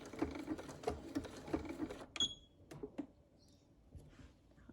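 A manual sewing machine stitches a buttonhole in a quick burst of soft mechanical ticks and whirs, then stops with a small click, leaving quiet fabric handling and faint taps.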